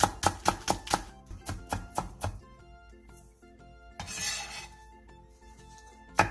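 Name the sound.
knife finely chopping green onion (daepa)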